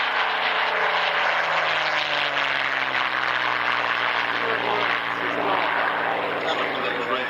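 Comet 4C jet airliner taking off at the 1996 International Air Tattoo at Fairford, a steady, loud broadband engine roar heard from a distance with a slowly shifting pitch and a commentator talking over it.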